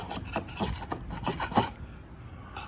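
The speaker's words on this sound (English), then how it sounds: "I'm trying to get this oil off this valve cover gasket. Scraping this here, getting ready for some paint." A scraper rasps across an oily engine valve cover gasket in short, repeated strokes, close up and gritty, then the scraping stops abruptly.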